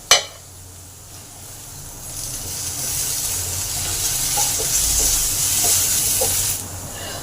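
Potatoes and snake gourd fry in a covered pan, giving a steady, loud sizzling hiss that builds after a sharp initial clatter and runs unbroken for several seconds.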